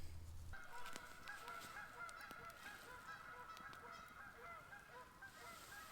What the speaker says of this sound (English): Oh, those geese are coming back,